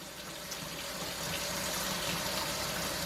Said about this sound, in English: 1/3 cups of very warm water in with this flour to make our dough